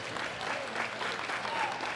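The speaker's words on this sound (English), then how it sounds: "Give him a round of applause." An audience at a world classic powerlifting championship ceremony claps in dense, sustained applause through the whole short moment, with faint voices in the crowd.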